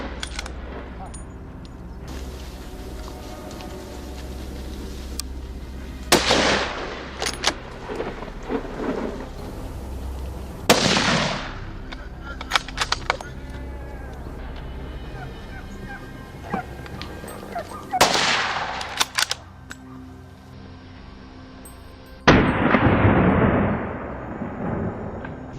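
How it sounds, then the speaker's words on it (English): Gunshots ring out across a hillside during a wild boar hunt: several sharp, loud cracks spaced seconds apart, each trailing a long rolling echo, with dogs barking in between. "Every sharp crack of gunfire echoed across the slope"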